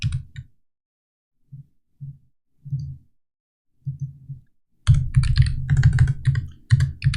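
Computer keyboard keys clicking in short bursts with pauses, then a denser, louder run of rapid typing toward the end; no voices.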